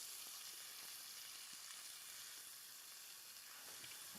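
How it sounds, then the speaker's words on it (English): Scallops with roe sizzle in hot butter in a pan, a steady, soft crackling hiss with faint pops running throughout, with no talking. "Scallops in hot butter are absolute magic."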